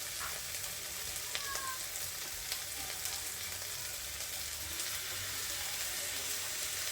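Boiled, mashed potatoes frying in a pan give a steady, close, dense sizzle with a few faint clinks, continuous throughout with no talking.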